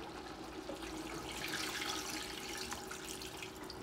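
Water pours steadily into a cooking pot holding whole partridges and a splash of sherry, a continuous close rushing splash with no voices.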